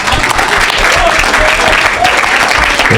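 A church congregation applauds the Lord, a loud, dense and continuous wash of clapping filling the space without pause.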